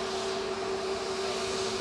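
An EasyJet Airbus A320neo airliner at Manchester Airport hums with a steady engine drone and a constant tonal whine, fairly distant and unbroken.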